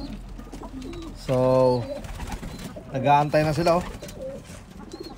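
Racing pigeons at a loft in Pensacola, Florida, give soft low coos in short bursts, heard beneath someone talking at length.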